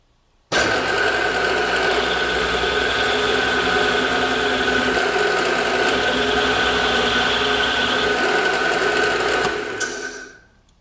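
A machine tool starts abruptly and runs steadily while machining a shaft end, a loud constant whirring hum with a fixed tone and fine vibration, then spins down at the end, with no talking.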